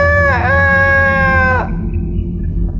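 A single rooster crow, loud and close, a drawn-out tonal call lasting over a second before cutting off into low background noise.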